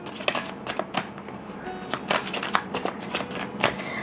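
Tarot cards are shuffled and drawn, giving a close run of crisp riffling flicks and papery snaps in quick irregular bursts.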